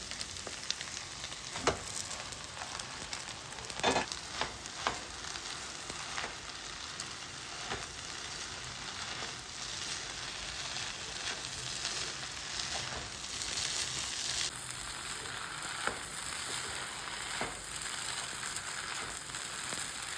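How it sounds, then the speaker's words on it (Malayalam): Egg noodles stirred in a hot pan, a steady soft sizzle and frying hiss with occasional scraping stir strokes, close and fairly quiet, no voices. "നമ്മൾ നേരത്തെ സെറ്റാക്കി വെച്ച നൂഡിൽസ് നമുക്ക് അതിലോട്ട് ഇട്ട് കൊടുക്കാം കേട്ടോ. എന്നിട്ട് നല്ലപോലെ ഇളക്കി കൊടുക്കാം."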